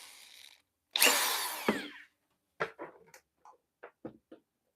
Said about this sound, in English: you don't need a power tool to do this. It just helps.